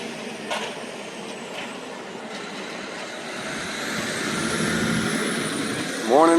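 Road traffic on a busy morning street during a power outage, a steady broad rumble of passing vehicles, likely including trucks, swelling louder toward the end with a brief higher-pitched brake or horn-like tone at the close.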